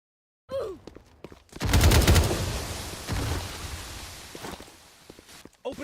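Rapid gunfire bursts in a competitive video game match, sharp dense volleys rising loud and close, then trailing into scattered shots and rattling noise.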